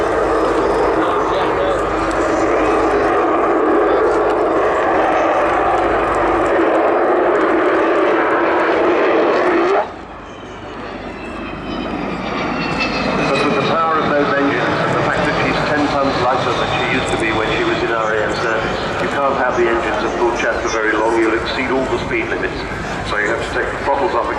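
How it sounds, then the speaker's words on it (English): An Avro Vulcan bomber accelerates during a display at the Southport Air Show 2015, its engines giving a loud, sustained jet roar that shifts into a rising, swelling howl, with an announcer talking over it. "She's starting to accelerate from the left."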